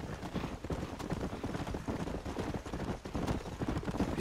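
Horse hooves in the video game Red Dead Redemption clatter in a fast, continuous galloping rhythm over a dense, rumbling background.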